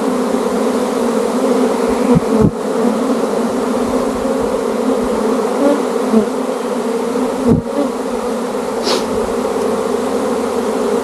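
A large swarm of honey bees, queen among them, fills the air outdoors with a dense, loud, continuous buzz. A couple of brief thumps break the drone.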